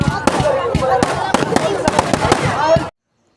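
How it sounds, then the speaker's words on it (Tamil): Firecrackers burst at a temple festival in quick, irregular sharp cracks, loud and close, over steady crowd noise and voices before cutting off. "பட்டாசு வெடிச்சிட்டு இருந்தாங்க"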